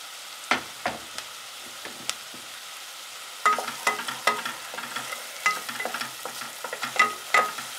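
Garlic dropped into onions frying in a pan for butternut squash soup, a low sizzle broken by scattered clicks and scrapes of a utensil that grow busier midway, close and without speech.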